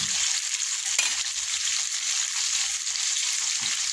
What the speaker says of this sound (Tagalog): ipiprito mo natin yung ating patatas sa carrots